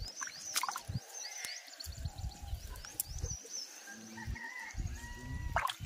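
Chickens cluck and call around a village canal during hand fishing, faint and a little distant against a busy outdoor background of birdsong and low rustling, with no talking.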